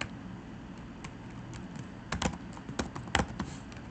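Java code being typed on a computer keyboard, a sparse run of light keystrokes that quickens slightly toward the end, close but soft over a constant background hiss, with no talking.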